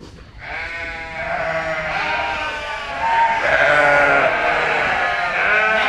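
Newborn lambs bleat repeatedly in a barn during spring lambing, with a first-time ewe nearby. The wavering cries are close and loud, overlapping almost continuously with no talking.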